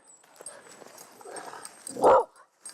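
A single short dog bark, close and fairly loud, after some quiet shuffling and rustling noises.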